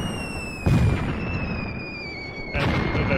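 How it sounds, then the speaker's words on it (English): Mortar rounds striking an artillery battery in the Graviteam Tactics wargame, two heavy booming impacts about two seconds apart, each with a broad rumbling burst that lingers over a steady high whine in the background. "We have spotted an artillery battery here, which is now under our mortar fire"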